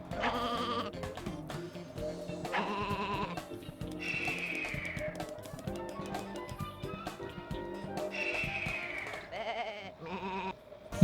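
Cartoon sheep bleat repeatedly in Looney Tunes: Sheep Raider, the 2001 PlayStation game, with several wavering bleats at intervals over a steady low game music bed, with no talk.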